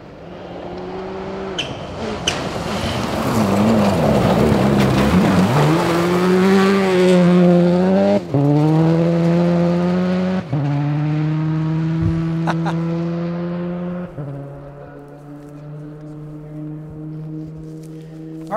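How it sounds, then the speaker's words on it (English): A rally car roars past close by on a special stage of the 2012 Olympus Rally, its engine revving hard, then the pitch falls as it speeds away, with talking over the noise. "we just saw David Higgins going by, having a blast, chasing down Ken Block here on the 20-miler"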